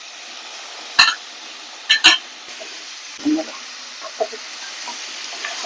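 A spoon stirs chopped tomatoes and bottle gourd pieces frying in a pan, with soft sizzling underneath and a few sharp scraping clatters near the start, then quieter stirring sounds, with no talk.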